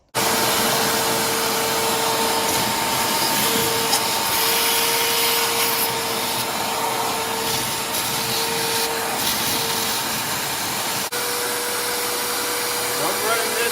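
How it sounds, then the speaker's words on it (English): A shop vac runs steadily from start to finish, sucking a clog out of a furnace that leaks from the bottom, with a constant close whine and a slight change in tone near the end. "This guy's stuck away in that clog in there, clean it out with a shop vac."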